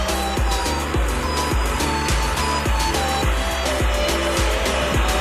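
Busy street traffic with car engines and passing vehicles, a constant loud roar with rhythmic thumping from a nearby source and no speech.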